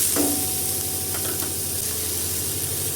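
Onion, green chili and curry leaves sauté in a pan with a steady close sizzle, a few soft stirring scrapes over the continuous frying hiss; no talking.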